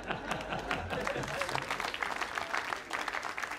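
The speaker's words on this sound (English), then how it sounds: "perhaps some people applauding for the wrong reasons" Applause from a comedy night crowd, steady clapping with scattered voices and some laughter, moderately loud throughout.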